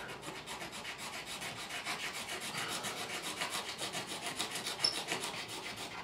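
Steady rhythmic rubbing as grime is scrubbed off the fingerboard of a Tanglewood TW115 acoustic guitar, quiet close strokes repeating evenly with no talking.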